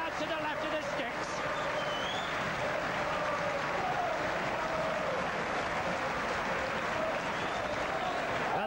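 Rugby league crowd at a St Helens versus Wakefield match cheering and applauding after a Saints try, a sustained roar from the stands under a commentator's voice.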